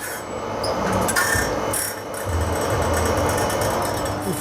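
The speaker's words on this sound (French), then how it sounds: "Il faut affûter l'angle d'attaque, et le fond de dent et le dessus." A grinding wheel sharpens saw blade teeth, producing a continuous loud rasping, scraping grind that swells and eases slightly as the wheel works the tooth profile.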